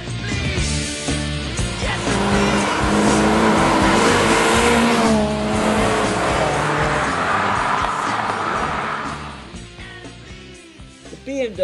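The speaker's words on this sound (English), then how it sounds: "there's that lovely Alfa growl when pushed hard" Alfa Romeo 156 engine pushed hard, a loud growling acceleration with rising and shifting pitch that fades toward the end, heard close with a voice talking over it.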